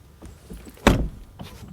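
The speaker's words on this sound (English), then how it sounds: "door closing sounds here with the Audi today. And then with the M4" A BMW M4 coupe door shuts with a single solid thud near the middle, preceded by faint handling noises and followed by a softer click.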